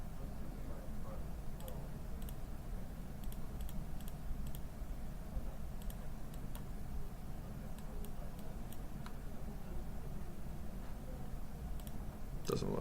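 A computer mouse clicks on map layers, giving quiet, sharp, irregular clicks scattered over a low room hum, with faint talk in the background.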